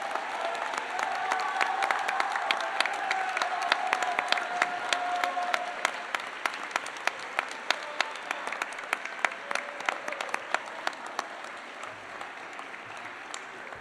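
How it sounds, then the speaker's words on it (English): A large audience of families and friends applauds at a medical school white coat ceremony, a dense, sustained round of clapping that stays strong throughout before slowly thinning into scattered individual claps near the end. "give them a round of applause for helping you reach this point."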